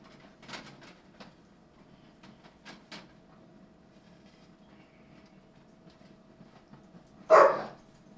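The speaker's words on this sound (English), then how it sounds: "Oh, hush, you silly dogs." Dogs bark indoors in a home kitchen during cooking: a few faint, distant yaps come early, then a single louder, closer bark bursts out near the end over a quiet background hum.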